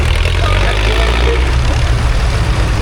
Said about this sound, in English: American tractor, big, powerful,